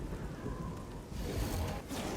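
Steady rain in the video game Oblivion, a broad continuous wash that swells slightly louder in the second half, with no voices over it.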